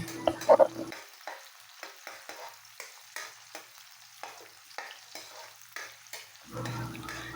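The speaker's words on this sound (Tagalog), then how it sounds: "Pagkatapos ng 1 minuto ay maglagay na din tayo ng hiniwang bawang." Sliced ginger and garlic fry in oil in a pan for squid adobo, a faint sizzle punctuated by regular stirring scrapes, with louder bursts at the start and end.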